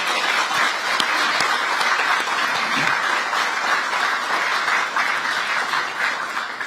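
Steady, dense applause from a large audience at the opening ceremony of the Ministry of Oceans and Fisheries office in Busan, sustained evenly throughout without speech.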